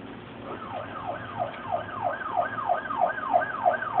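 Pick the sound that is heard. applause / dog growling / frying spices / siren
siren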